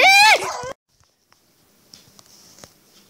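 A dog gives a loud, sharp yelping bark at close range, followed by near silence, then faint whimpers, patters and small thumps.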